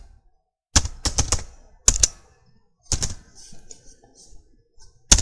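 Computer keyboard typing a website address, fast bursts of sharp clacking keystrokes separated by pauses, close and loud with no talking.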